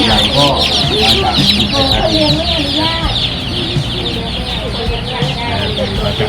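Chickens, hens and roosters, cluck steadily in a crowded livestock fair hall, with people talking loudly over the birds throughout.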